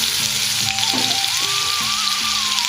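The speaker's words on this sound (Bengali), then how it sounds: "তাড়াতাড়ি পেঁয়াজ ভাজাটা দিয়ে দিই এত ছিটকায়" Whole spices and fried onion sizzle hard in hot oil, a loud, steady, crackling hiss with spattering pops that runs without pause from start to finish.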